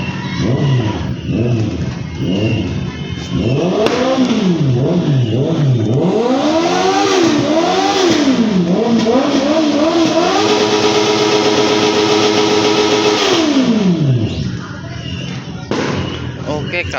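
A British motorcycle engine revs repeatedly, pitch sweeping up and down in loud bursts before a long sustained high rev that drops away, with talk faintly underneath.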